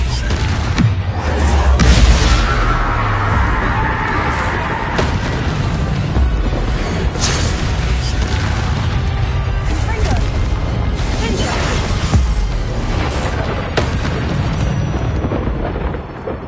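The Confringo fire spell from the Hogwarts Legacy video game bursts in repeated booming explosions over a dense, continuous battle soundscape of rumbling blasts and crashes, with a voice calling out at times.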